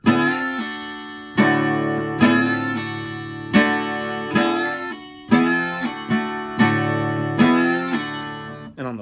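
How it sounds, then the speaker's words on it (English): A plucked acoustic guitar lick on the higher strings, repeated in a steady pattern of ringing note clusters, played alone and close. "So on the high strings, it'll sound like this."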